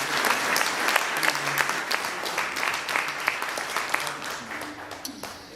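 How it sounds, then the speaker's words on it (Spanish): A church congregation applauds during a Sunday Holy Week sermon, with loud, sustained clapping and a few voices mixed in. "Démosle un aplauso al Señor por eso también"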